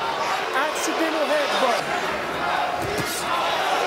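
A boxing arena crowd murmurs and groans in a steady mass of noise behind a commentator talking throughout.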